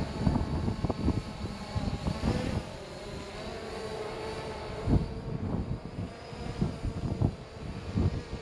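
An SJRC F11 4K Pro drone flies, its motors making a constant whirring hum with uneven bumps and gusty surges, fairly close and steady throughout.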